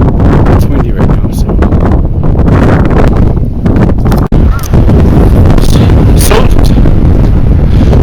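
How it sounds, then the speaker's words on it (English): Strong wind gusts buffet a microphone on a mountain trek near Pakding on the Everest Base Camp route, a loud constant rush with a brief dropout midway. "It's windy right now"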